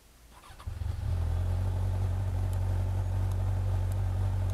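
A used motorcycle's engine cranks and catches, then settles into a steady, close, rumbling idle that runs without interruption.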